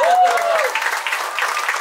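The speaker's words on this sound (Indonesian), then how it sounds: "Tepuk tangan buat kalian" Camp participants applauding at an English and character camp in Depok, a loud, dense burst of many hands clapping together, with a voice briefly heard over the start.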